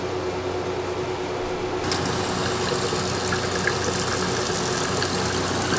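A low mechanical hum of a running water pump with rushing water, part of a system with an expansion tank, water filter and battery, steady throughout, growing noticeably louder partway through as flow picks up.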